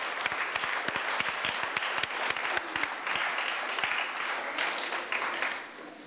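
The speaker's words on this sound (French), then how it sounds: "une bonne main d'applaudissement à tout le bon monde que j'ai désigné ce soir" An indoor audience at a community budget project unveiling gives a steady round of applause, many hands clapping densely and continuously for about six seconds before thinning slightly at the end.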